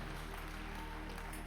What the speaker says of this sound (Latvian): Aplausi 2. vietai